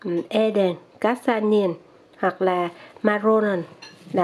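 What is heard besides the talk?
None of the usual background noises is heard.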